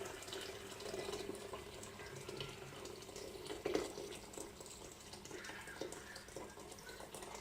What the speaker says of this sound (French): je vais remettre l'eau directement